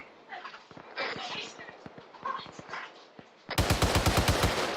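In a military video game, a voice talks over faint rhythmic thuds, then a machine gun fires a loud, rapid sustained burst of sharp, evenly spaced shots close by.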